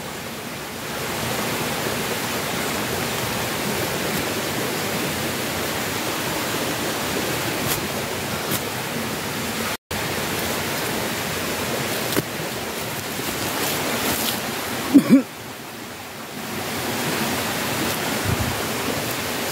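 River water flowing steadily as a broad, continuous rush, loud and near, with a brief bump and knock toward the end and no talking.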